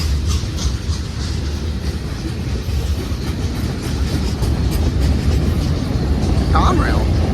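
A Conrail manifest freight train, led by an AC44C6M locomotive, rolls past close by with a steady rumble and rhythmic clickety-clack of wagons on rails, continuous and loud throughout.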